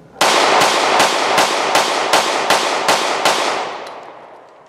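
A Smith & Wesson Equalizer pistol fires about nine loud, sharp shots in a fast, steady string at the range, each report cracking close before ringing out.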